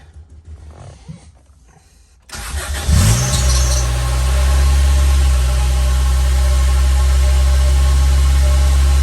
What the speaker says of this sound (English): go ahead and give her a crank